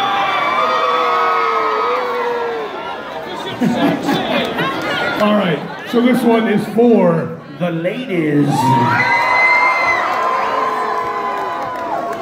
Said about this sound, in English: You won't be cheering in a second.